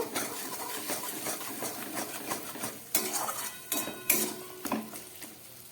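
Peas are stirred and sautéed in oil for a gathi kochu dom, heard as a metal spoon scraping and clinking against the pan in uneven strokes, close up, over a faint sizzle.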